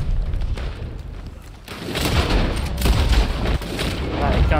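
Rapid gunfire bursts and booming shots in the Western video game Red Dead Online, loud and dense throughout, growing heavier after the first couple of seconds, with a voice talking underneath.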